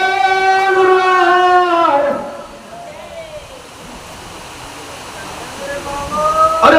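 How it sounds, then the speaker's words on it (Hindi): Steady rain pours during an outdoor Bhagwat katha religious gathering, a broad watery wash that runs throughout, with a voice singing or speaking over it at the start and end. "पानी ये गिरता है आवाज आएगी"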